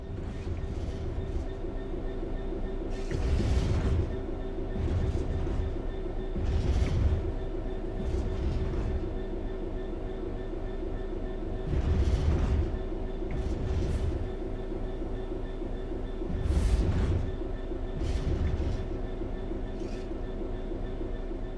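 A train in Train Sim World 3 coasts steadily along level rails with a continuous low rumble and periodic swells of clattering wheel noise, with no voices present.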